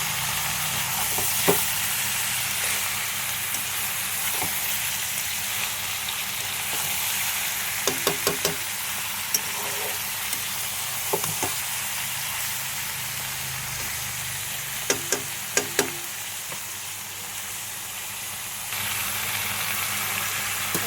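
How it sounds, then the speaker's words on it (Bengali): Mutton pieces fry in a pan, giving a steady, close sizzle that runs throughout. Occasional light clicks and scrapes from stirring cut through the hiss. "মটনটা দিয়ে দিয়েছি, মটনটা দিয়ে একটু করে নেব।"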